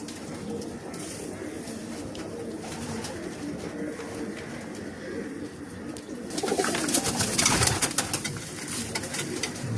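Continuous soft cooing from short, feather-footed female black diamond pigeons kept in stock, a low steady murmur that turns into a louder burst of rustling and flapping toward the end.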